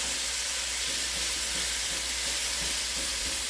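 Pork pieces for a stew browning in a hot pot, giving a loud, dense, continuous sizzle and hiss that holds steady throughout, with no talking.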